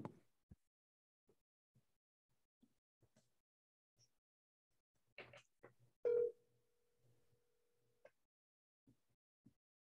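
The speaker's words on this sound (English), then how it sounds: "Now I'm trying to give her a call." A telephone dial tone sounds while a call is being placed: a loud steady tone bursts in, then holds more faintly for about two seconds. Scattered soft clicks and taps come before and after it, with no talking.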